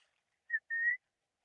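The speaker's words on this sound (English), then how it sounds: "She's wondering where that whistle is coming from." A person whistles two clear, sustained notes at a livestreamed elephant waterhole, a short chirp followed by a longer held tone, heard alone against silence.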